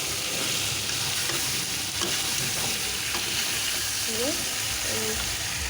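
Loud, steady sizzle of something frying in a pan before spice paste goes in, with continuous crackle and occasional stirring scrapes, close and dense throughout.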